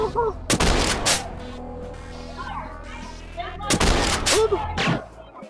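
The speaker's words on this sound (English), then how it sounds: "You need to shoot any animatronic that appears within your room." Shotgun blasts fired at animatronic robots in a Five Nights at Freddy's style game: two loud, booming shots about three seconds apart, each trailing into a short echo, with an electronic game tone underneath.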